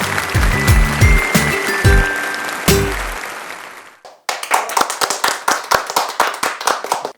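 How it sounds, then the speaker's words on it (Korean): Audience applause greeting guests at a community welfare sharing event: a dense burst of clapping under a host's raised voice, then after a brief pause a lively, rhythmic round of close clapping in quick repeated pulses. "박수로 맞이해주세요."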